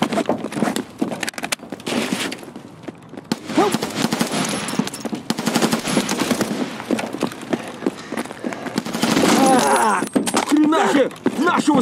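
Gunfire in an online shooter game: rapid bursts of automatic shots and scattered single cracks, loud and close, mixed with footsteps, gear rattling and shouting voices.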